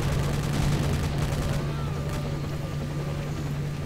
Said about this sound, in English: And they're shooting at me.